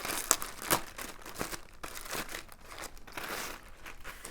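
Crinkling and rustling of a 20-litre waterproof dry bag being handled, a steady run of close, crisp rustles and crackles with a few sharper crunches along the way, and no voice.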